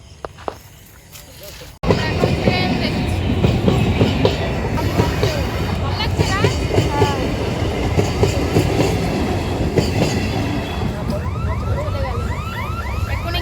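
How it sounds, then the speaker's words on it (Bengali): A train rolls past a level crossing at close range, its steady rumble and rhythmic clatter of wheels on the rails running loud and continuous after a quiet start, with people talking faintly nearby. "আবার একটা ট্রেন করতে করতে আসছে"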